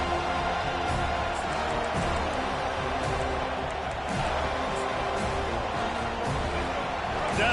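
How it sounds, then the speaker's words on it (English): Steady roar of a stadium crowd in the NCAA 25 college football video game, swelling on a third-down defensive stand, a continuous dense wash of cheering under a commentator's voice. "Decibels rising as the crowd gets behind this defense on 3rd down."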